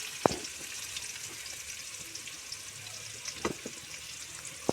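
Spices tempering in hot oil on a stovetop for tomato chutney give a steady, soft sizzle broken by a few sharp pops and splutters, with no talking.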